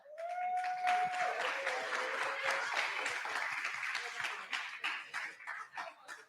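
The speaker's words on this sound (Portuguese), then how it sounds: "Vamos dar uma salva de palmas aqui para você no palco." A crowd at a nighttime stage event applauds someone called up onstage, moderately loud scattered clapping that thins out toward the end, with a brief tonal sound at the start.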